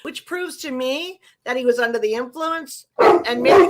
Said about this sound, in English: Sorry about that. That's my dog.